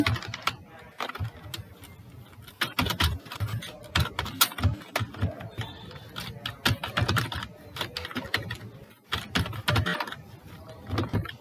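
Fingers type C++ code on a computer keyboard in quick, uneven bursts of clicking keys with short pauses between runs, close and clear.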